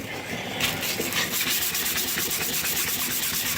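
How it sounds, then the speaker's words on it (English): Light hand sanding of an old wooden tool with 220 grit sandpaper, a steady close-up rubbing scrape with rhythmic back-and-forth strokes running throughout, no talking. "So I'm just using a real light sand just so I can get the wood kind of back to where it's supposed to be."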